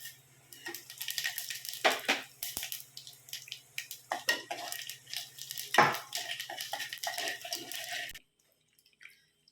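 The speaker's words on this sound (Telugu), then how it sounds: "ఇదిగోండి తాలింపు గింజలు వేసేస్తున్నాను. జీలకర్ర, ఆవాలు, సాయి మినపప్పు." Cumin, mustard seeds and urad dal tempering in hot oil in a pan, a crackling, spattering sizzle with bursts of popping, close and fairly loud, under a low steady hum, ending abruptly.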